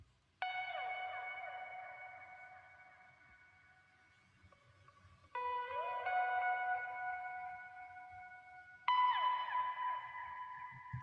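Sampled guitar drenched in reverb, saturation and delay: three sustained, echoing chords, each swelling in suddenly and then slowly decaying into a long shimmering tail, heard alone and fairly quiet.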